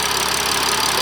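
A BMW M235i with an N55 engine and catless downpipe idles steadily, a continuous broadband hum with no breaks, heard alone and fairly loud.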